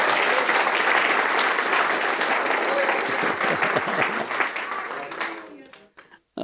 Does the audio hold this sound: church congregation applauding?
yes